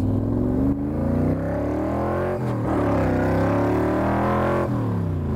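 A 1965 Shelby Cobra engine revs loudly and steadily, pitch rising and dipping through several throttle blips, close by with no talking.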